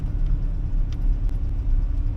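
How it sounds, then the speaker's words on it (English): A classic Fiat car engine runs while driving with a steady, low rumbling hum, close and continuous throughout, with no voices. "the engine sounds sweet"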